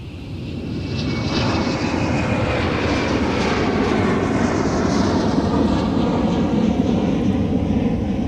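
An airliner takes off at Minneapolis–St. Paul airport, its engine roar swelling within the first second and then holding as a loud, steady, broadband rumble for the rest of the clip, with no talk over it.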